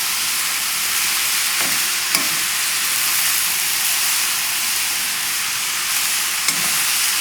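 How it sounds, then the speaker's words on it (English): Bean sprouts and vegetables sizzle in a hot pan while stir-frying chicken chow mein, a loud steady hissing fry with a few faint stirring clinks, close and continuous. "Very soon it will stop sizzling because the bean sprouts will start to give off water"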